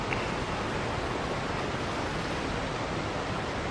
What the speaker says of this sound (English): This waterfall is loud in my ears.